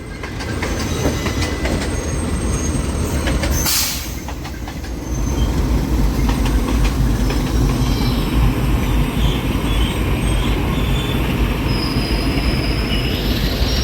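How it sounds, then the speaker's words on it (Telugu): Twin upgraded WDG6G diesel locomotives haul a passenger train, heard up close as a loud, continuous roar of rolling wheels and rumbling cars with steady metallic rattling and a brief squeal of wheels. "డబ్ల్యూడిజి సిక్స్ జీ అండి upgraded diesel loco twin locomotive చూసారా బలం ఉంది"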